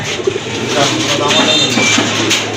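Pigeons at a Bangladeshi market stall selling running and high-flying breeds coo steadily at close range, their soft throaty calls continuous beneath a busy background of voices and bustle.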